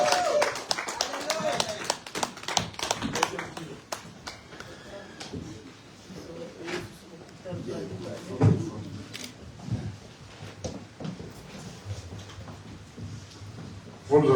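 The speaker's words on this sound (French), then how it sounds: "nous acclamons très fort le Seigneur" A church congregation at a leaders' retreat in Germany bursts into loud, dense applause that gradually thins into scattered claps, with voices talking and calling throughout.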